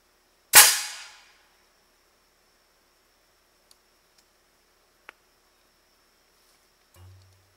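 A homemade CO2-powered cannon test fires unloaded: one sharp, loud blast with a quick hissing decay, followed by near silence with a few faint ticks and a low thump.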